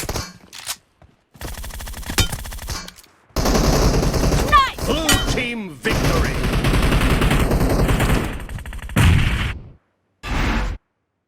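Bursts of rapid gunfire in PUBG Mobile crackle in short volleys separated by pauses, loud and close, with occasional game sound effects mixed in.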